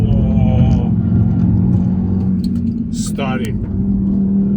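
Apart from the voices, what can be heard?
Audi RS3 car accelerating hard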